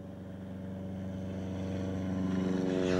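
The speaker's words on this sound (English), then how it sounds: "I'm just checking the way the engine runs on each of its two mags." A light aircraft engine with two magnetos runs steadily during a pre-takeoff magneto check, a loud, close, droning rumble that slowly builds in volume, with no talk over it.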